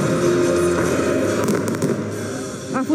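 New Year fireworks burst over the resort town of Sinaia, with crackling explosions heard from a distance. A continuous rumble of bangs rolls on throughout, and a sharper pop comes near the end.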